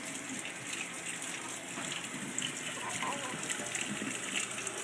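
Tap water runs steadily into a bath during a baby's first bathing, a continuous close gushing hiss that holds even throughout.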